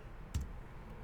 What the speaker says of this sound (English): Or you can just hit L on your keyboard.